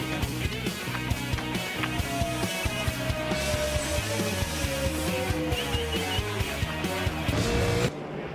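WTCC touring race cars racing on a circuit, engines roaring hard and continuously at close range, with one car's pitch sweeping down as it passes, under a dense loud wall of engine noise.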